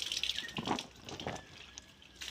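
Rainwater splashes and gushes unevenly through a torn tarpaulin into a storm-damaged house, a faint, close, watery pouring with irregular surges and no talk.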